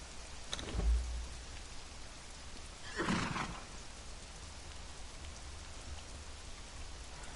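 A horse in the Conan Exiles video game gives a single loud whinny midway, set against a steady wash of rain with a faint earlier thump.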